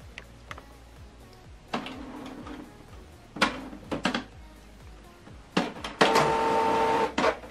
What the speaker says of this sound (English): So let's test print.